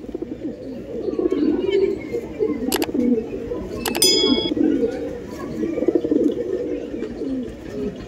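Andhra Lambadi pigeons cooing in soft, repeated low burbling calls close by, with a couple of sharp metallic clinks in between and someone talking faintly at times.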